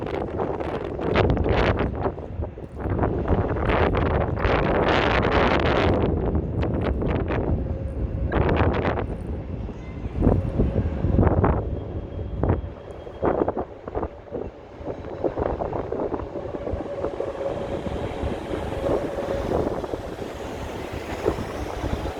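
Heavy wind buffets the microphone in loud rumbling gusts on a downtown Chicago street, easing into a steadier roar with fainter rustling later; no one speaks.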